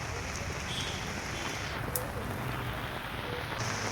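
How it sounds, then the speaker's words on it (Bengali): Rain falling outside a roadside shop, a steady soft hiss of drops that stays even throughout, fairly faint and close, with a faint voice in the background. "বৃষ্টি হচ্ছে"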